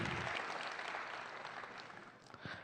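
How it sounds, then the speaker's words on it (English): Audience applause at a middle school promotion award ceremony, fairly faint and distant clapping that thins out toward the end, with a few louder claps at the close. "If we can give another nice round of applause for this awesome award."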